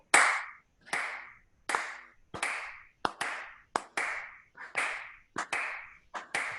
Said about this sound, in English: let's see if we can clap in time with each other.